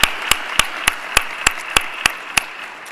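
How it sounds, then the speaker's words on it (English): An audience at an IT Summit gives the volunteers a round of applause, heard as sharp, evenly spaced claps in a steady rhythm, about three per second, close and distinct against a quiet room. "we just want a round of applause again just for all these volunteers"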